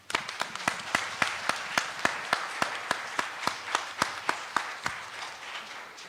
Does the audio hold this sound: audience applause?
yes